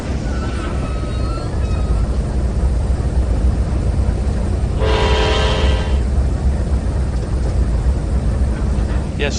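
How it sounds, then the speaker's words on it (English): A diesel locomotive's air horn in a Trainz 2019 simulation sounds one loud chord blast of about a second amid steady engine rumble from a four-engine coal train consist. "Yes, sir, that's one healthy air horn."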